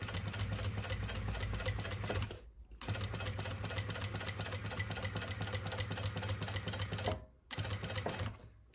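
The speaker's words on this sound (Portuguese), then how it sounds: "vamos subir aqui e finalizar a nossa costura com retrocesso lá em cima" A sewing machine running a backstitch at the end of a seam, its rapid needle chatter rolling on steadily, broken by two brief pauses, close by and at moderate volume.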